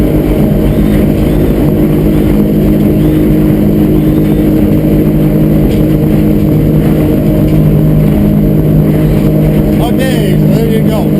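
A 24-foot Edge Sport speedboat's engine roars loud and steady as the boat takes off, a constant close drone with wind and water noise throughout.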